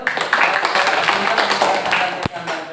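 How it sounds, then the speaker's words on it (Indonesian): Students in a classroom clap their hands, a loud, close burst of uneven claps mixed with voices, and one sharp knock near the end. "silakan tepuk tangan dulu"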